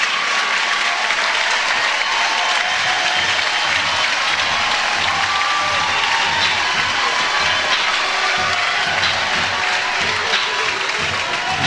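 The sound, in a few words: crowd cheering a sacrifice bunt at a college softball game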